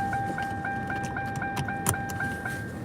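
A car's seatbelt warning chime repeats in a steady, evenly spaced series of bright electronic tones inside the cabin, with a faint click partway through.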